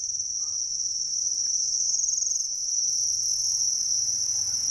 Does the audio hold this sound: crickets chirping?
yes